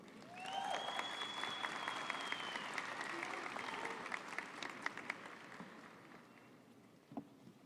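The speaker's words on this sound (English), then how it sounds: "Let's give him a round of applause." Graduation audience at Mountain View High School applauding the principal, with broad, fairly distant clapping from a big crowd. A whistle sounds early on and a few scattered calls rise within the applause before it tapers off.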